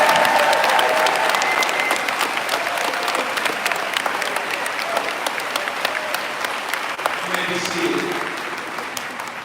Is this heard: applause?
yes